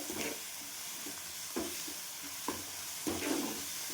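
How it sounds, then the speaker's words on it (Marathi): Ground spice paste fries in oil for Maharashtrian mung dal amti, a steady low sizzle with a few soft scraping stirs at intervals, close and fairly quiet. "ते वाटण पण आपण टाकून घेऊया छान तेलामध्ये फ्राय करून"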